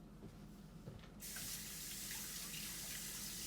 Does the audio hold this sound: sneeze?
no